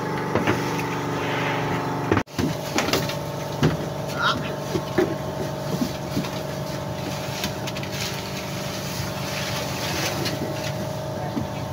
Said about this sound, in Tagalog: may lumapit po sa atin na maliit na bangka